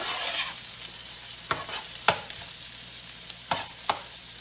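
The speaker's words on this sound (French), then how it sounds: "Et on mélange." Pasta stirred through béchamel sauce with mushrooms and spiced chicken in a pan, soft sizzling under a few distinct scraping strokes of the spoon.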